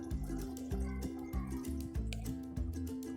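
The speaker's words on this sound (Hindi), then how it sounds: "अब हम इसमें पानी डाल रहे हैं थोड़ा सा, ताकि ग्रेवी थोड़ी सी बढ़ जाए।" Water is poured into a pot of potato and pea curry, giving quiet, wet gurgles and splashes that come in regular, repeated bursts, close by and alone.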